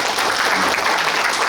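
An audience at a Korean provincial council education event breaks into dense, steady applause, loud and continuous throughout without any voices over it.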